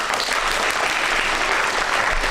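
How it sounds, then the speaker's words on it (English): A packed audience at a student election question-time event breaks into loud, sustained applause, dense hand claps filling the room continuously and close up. "Can we please have a massive round of applause?"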